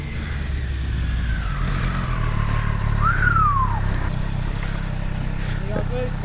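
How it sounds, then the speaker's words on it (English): A 2023 Triumph Street Triple 765 RS motorcycle engine revs up and settles, its pitch rising and falling over a steady low rumble, with people talking nearby. "Here it is, guys. Street Triple RS. Sounds a bit throatier than I remember the last one."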